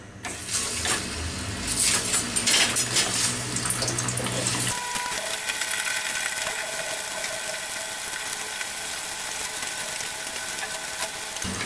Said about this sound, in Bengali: এখন তেল গরম করে এই মুরগিগুলোকে ভেজে নেওয়া হচ্ছে